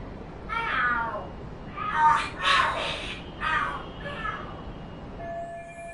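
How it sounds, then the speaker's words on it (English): Cats yowl and scream in a drawn-out fight in the video game Lost Judgment, several wailing cries rising and falling, fairly close and without speech. "The hell? Are there cats fighting?"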